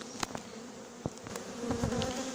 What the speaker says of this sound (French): C'est rempli d'abeilles à bloc.